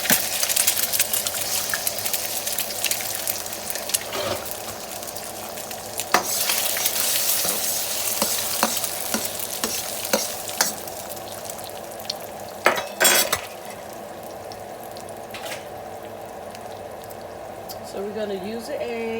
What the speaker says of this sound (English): We're going to use sesame seed oil, okay? We're going to start off with an egg or two.